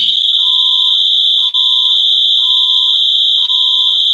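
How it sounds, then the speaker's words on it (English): A house alarm sounds loud and close, a steady piercing high tone held under a lower beeping pattern that repeats about every second, with no voices. "That's my house alarm."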